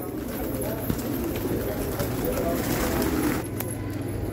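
A flock of Shirazi pigeons coos softly in a Delhi pigeon-keeping setting, with faint low calls under steady background noise.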